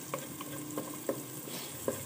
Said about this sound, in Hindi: चॉप ऑनियन है मीडियम साइज़ का, ये जल्दी से जो है गोल्डन ब्राउन हो जाएगा।